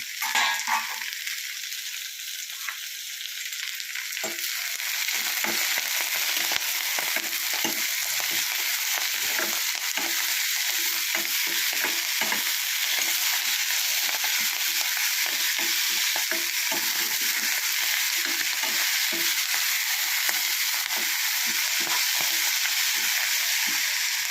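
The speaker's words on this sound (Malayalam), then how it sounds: "നമുക്ക് ഇത്തിരി എണ്ണ ഒഴിച്ച് വഴറ്റിയെടുക്കാം. അതും ഉള്ളി പച്ചമുളകും കൂടെ വഴറ്റിയെടുക്കാം." Onion and green chili sautéing in oil for a curry, a close, loud, continuous crackling sizzle with stirring scrapes throughout after a brief quieter start.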